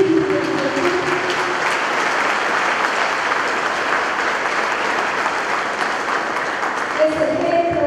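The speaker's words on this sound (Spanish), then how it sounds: "aquí sí quiero también pedir un aplauso" Steady crowd applause at a municipal accountability meeting in Catamayo, dense clapping throughout with a voice speaking over it briefly at the start and end.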